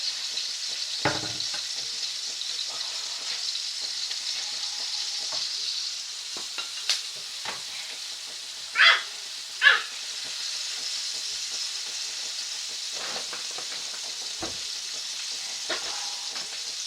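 Ground beef, two onions and tomato fry in a pan with a soft, continuous sizzle, broken by occasional utensil scrapes and a couple of louder bursts midway, heard up close with no speech.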